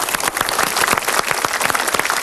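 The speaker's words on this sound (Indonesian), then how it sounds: "tepuk tangan untuk beliau" Brief, loud audience applause at a motivational seminar, a close, dense burst of clapping with distinct individual claps throughout.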